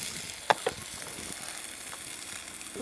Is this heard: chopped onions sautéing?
yes